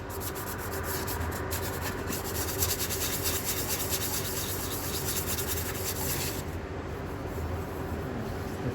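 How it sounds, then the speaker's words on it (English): Steady close-up scrubbing of 1000 grit sandpaper across an engine block surface from a 2013 GMC Terrain, a continuous rasping rub that eases slightly near the end. "I'm just gonna hit with this 1000 grit, clean my surfaces a little bit."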